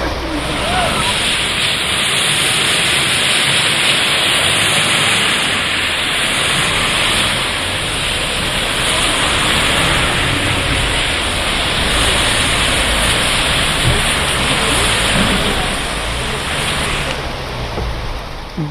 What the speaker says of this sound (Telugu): రాత్రి నుంచి ఎడతెరిపి లేకుండా వాన పడుతుంది